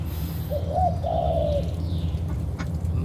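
A pigeon coos softly, two low rolling calls close together, over a steady background hum.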